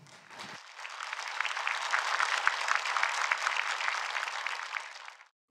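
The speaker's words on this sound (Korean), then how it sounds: "목사님을 환영하는 마음으로 따뜻한 박수로 모시도록 하겠습니다" Church congregation applauding in welcome of a visiting pastor before the sermon, warm sustained clapping that swells in after a brief pause, holds steady, then cuts off abruptly, alone without talk.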